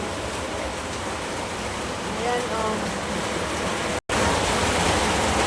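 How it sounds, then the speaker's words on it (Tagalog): Dense, continuous hiss of heavy rain pouring down, loud and unbroken, with a voice briefly speaking under the downpour. "Pagpasensyahan nyo na medyo maingay dito kasi ang lakas ng ulan dito sa amin ngayon."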